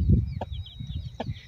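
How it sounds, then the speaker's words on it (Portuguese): A tethered hen in a rural Brazilian farmyard gives a few short, close clucks, with brief sharp calls spaced apart over quiet yard ambience and faint bird chirps. "A galinha fica amarrada aqui"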